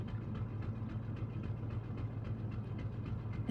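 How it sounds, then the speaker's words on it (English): Steady rhythmic clacking like train wheels on rail joints runs as a continuous ambient bed beneath a video game scene, with a low engine-like hum and regular faint clicks throughout. "It sounds like train tracks clacking."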